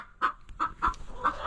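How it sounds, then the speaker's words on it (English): A small bantam hen clucks inside a nesting box, several close, sharp clucks in an uneven rhythm, clear and alone. "So what we have here is one of our little Banny hens."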